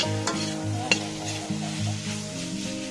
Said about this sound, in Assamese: আগৰ যিখিনি মাংস আছিল সেইখিনি এতিয়া এড কৰি দিম ইয়াতে। একদম সুন্দৰকৈ চাকা নাকা কৰি লৰি দিলে হ'ল।